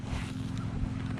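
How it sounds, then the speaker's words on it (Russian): Strong wind blows at an outdoor fishing spot, a constant rough roar and buffeting rumble against the microphone, loud and unbroken with no talking. "потому что очень сильный ветер"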